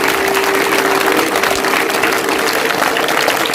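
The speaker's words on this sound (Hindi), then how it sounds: "जोरदार तालियों से" Loud, dense applause from a school audience at an Urdu high school quiz competition welcomes a group, many hands clapping continuously at full strength with a faint crowd murmur beneath.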